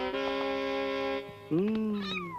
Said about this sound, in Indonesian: Tuh kucing muntah bukan karena racun.